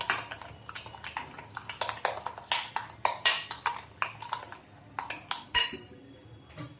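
Hilsa fish pieces are mixed with turmeric and a spoon of mustard oil in a bowl, a rapid run of spoon clinks and scrapes against the dish, close and steady, with no talking.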